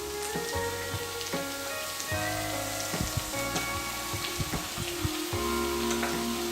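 Onions and tomatoes frying in a pan for an Indian onion tomato curry, a steady close sizzle with scattered pops and crackles, continuous and even, with no voices over it.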